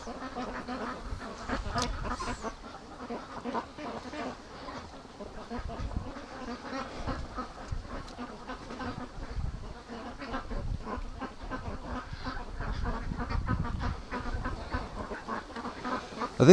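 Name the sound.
ducks quacking, coming back from the yard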